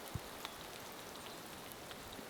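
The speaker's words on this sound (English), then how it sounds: "It looks like spring, but it's hailing." Hail pattering down on the High Sierra Trail in early September, a steady, soft patter of small impacts with a few sharper ticks standing out close by, with no talking.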